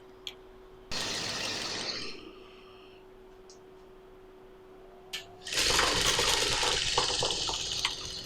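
A sewing machine stitches a cloth face mask in two runs, a short whirring burst early on and a longer, louder stretch of steady mechanical buzzing toward the end, with quiet hum in between.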